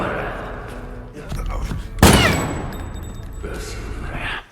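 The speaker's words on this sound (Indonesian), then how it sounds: "langsung melepaskan beberapa tembakan ke sembarang arah" Gunfire in an action film, several shots fired in random directions; a sharp loud burst hits midway with a decaying boom, among movie sound and background noise.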